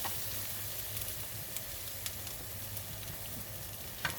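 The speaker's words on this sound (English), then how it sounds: "love the smell of onions frying." Onions fry in a pan with a soft, steady sizzle and occasional faint pops and crackles, heard up close.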